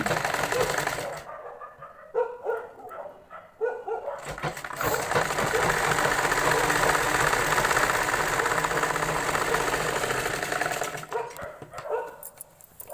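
Sewing machine stitching a belt joint on a salwar, running in a loud continuous mechanical whir for most of the stretch, with brief pauses near the start and end.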